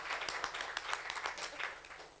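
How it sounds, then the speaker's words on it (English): A forum audience claps in a room, a dense patter of many hands that stays fairly even and then eases slightly toward the end, heard from a distance and fairly faint. "Give yourself a round of applause."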